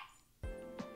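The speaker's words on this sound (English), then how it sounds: "If you hear my dog, I'm so sorry." A pet dog gives a single sudden bark or yip, close and fairly loud, breaking a quiet room tone, with a second softer yelp following moments later.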